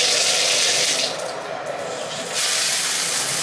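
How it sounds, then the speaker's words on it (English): A shower head turns on and water sprays and runs steadily, a loud close hiss of falling water that dips briefly in the middle before resuming at full force. "I'm gonna turn the shower on."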